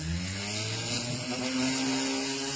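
Steady, loud whine of a grinder carving a bezel shot die in metal, with tonal bands holding level throughout, no talk.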